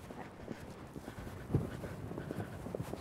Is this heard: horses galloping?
yes